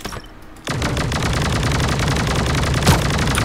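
An energy accelerated machine gun fires in the mobile shooter Sausage Man. A brief quiet lead-in breaks into loud, continuous rapid-fire shots that hammer on steadily to the end.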